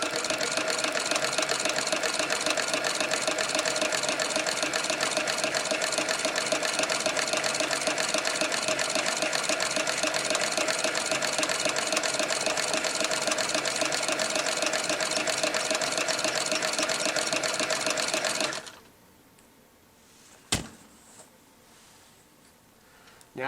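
A sewing machine runs steadily while winding a bobbin, making a loud, even mechanical whir with a fast rhythmic tick for about eighteen seconds. It then stops abruptly, leaving near-silence with a single sharp click.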